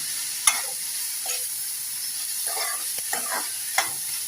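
Beetroot and beans stir-fry is stirred in a pan, giving soft scraping and clinking of a spoon in a few scattered strokes over a faint sizzle, close and quiet with no talking.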